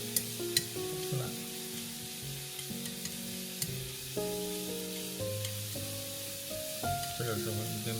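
Wild chives sizzle and hiss as they are stir-fried in a pan, with steady frying crackle and a continuous background tone throughout.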